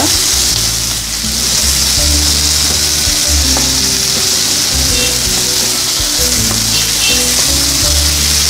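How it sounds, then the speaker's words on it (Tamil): Chopped tomato sautéing down into a paste in a hot pan gives a steady, loud, close sizzle and fry with occasional stirring scrapes throughout, no voices. "தக்காளி போட்டு நல்லா பேஸ்ட் மாதிரி வதக்கிக்கோங்க."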